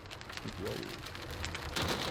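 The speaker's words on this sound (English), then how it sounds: "I'm eating a little bit of hail here" Hail from a supercell storm patters steadily and fairly faintly on a surface, with a swell of denser impacts near the end and no voices.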